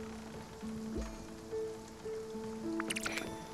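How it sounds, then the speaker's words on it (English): Gentle rain patters steadily in the video game Spiritfarer, a soft continuous wash under sustained musical tones, with a brief brighter splash near the end. "I actually quite like the rain in this game."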